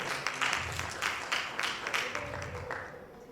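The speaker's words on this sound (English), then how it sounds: "please can we give her one more time a round of applause?" Applause from an audience at a business cybersecurity talk, a steady patter of many hands with some individually distinct claps, continuing evenly for a few seconds without voices.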